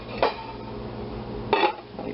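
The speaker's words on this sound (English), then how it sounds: "We place our lid." A lid settles onto a slow cooker holding bone broth with two light clinks of ceramic or glass about a second apart, close and fairly quiet against a faint background.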